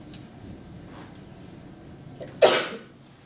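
A single sharp sneeze bursts out near the end during a live-streamed discussion, loud and abrupt against a quiet background.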